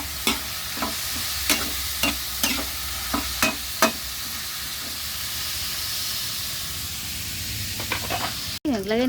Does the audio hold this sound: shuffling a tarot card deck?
no